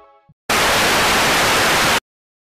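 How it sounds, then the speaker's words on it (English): TV static from a television set with no reception: a loud, steady broadband hiss that bursts on abruptly, holds evenly for about one and a half seconds, then cuts off to silence. "It's doing that static kind of noise thing"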